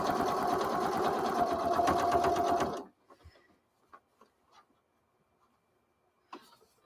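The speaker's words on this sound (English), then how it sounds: "I got to do another back stitch because a couple of those stitches were too close to the edge" A sewing machine back-stitching a tote bag runs in a steady, loud whir for about three seconds, then stops, leaving a few quiet clicks and handling taps.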